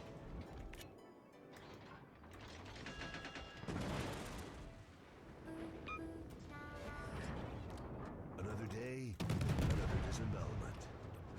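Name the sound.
destroyer shells firing in the video game World of Warships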